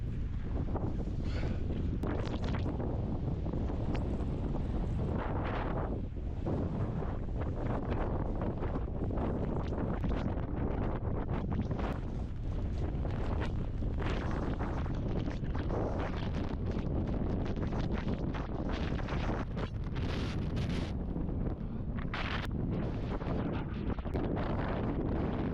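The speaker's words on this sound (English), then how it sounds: "Dude, that wind is crazy." Strong blizzard wind roars and buffets the microphone continuously, a loud, rough, gusting rush with no pauses.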